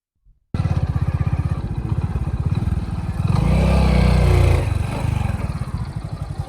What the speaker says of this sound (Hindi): जैसे अभी हम बाइक को गुजारेंगे